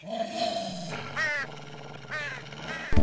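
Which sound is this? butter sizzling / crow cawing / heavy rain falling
crow cawing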